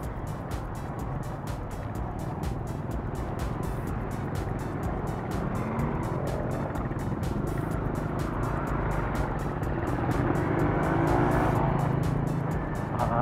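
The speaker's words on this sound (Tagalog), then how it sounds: "Nag-build up nga ng traffic dyan." Steady road traffic rumbles around a motorcycle on a road in Cabanatuan near a large high school, a continuous engine and wind drone with vehicles passing close by.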